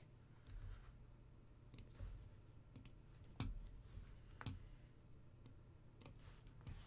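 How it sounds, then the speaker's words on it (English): Keys tapped on a computer keyboard during a Rainbow Six Pro League esports broadcast, sparse separate clicks at irregular intervals, fairly close and quiet over a low steady hum. "he's typing to me"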